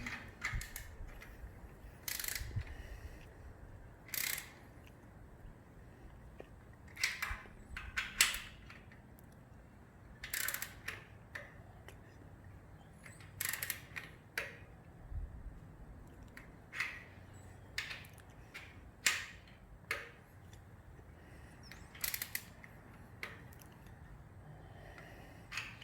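A torque wrench tightens bolts on a Triumph Street Scrambler, giving sharp, scattered clicks and ratcheting snaps at irregular intervals over a quiet, low workshop hum.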